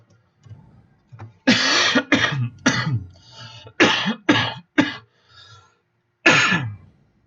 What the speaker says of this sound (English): The stupid remnants of my cough from the other week